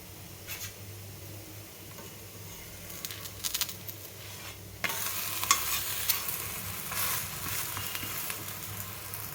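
Black salsify curry frying in ghee in a pan and being stirred, with a steady close sizzle and scraping strokes that grow louder and brighter halfway through, and no voices.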